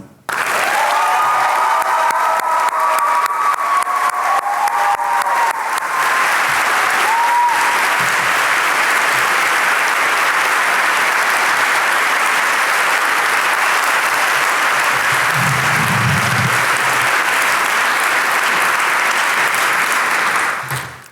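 A large audience at an academic awards convocation claps loudly and continuously for about twenty seconds, a dense and sustained wash of applause with a brief voice near the start.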